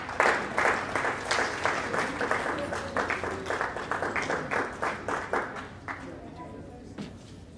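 An audience at a church anniversary celebration dinner breaks into sustained rhythmic clapping, loud at first and gradually thinning toward the end, with voices faintly mixed in.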